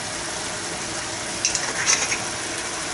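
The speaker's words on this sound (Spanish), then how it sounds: "y a seguir revolviendo" Lasagne sauce stirred in a pan over heat: a steady low sizzle runs throughout with a few brief scraping swells of the spoon near the middle, close and moderately loud, no voices.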